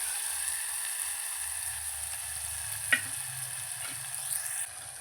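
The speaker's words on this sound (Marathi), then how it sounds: "हे छान आपल्याला टोमॅटो सॉफ्ट होऊपर्यंत आणि कांदा जरासा लाल होऊपर्यंत भाजून घ्यायचं आहे" Onion and tomatoes frying in a pan for sambar, a soft, steady sizzle with a single sharp utensil tap partway through and faint stirring.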